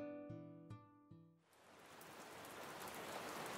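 Heavy rain sound effect in a Korean children's story of the green frog, a dense, steady hiss of pouring rain that starts after a few soft musical tones and builds to a constant downpour.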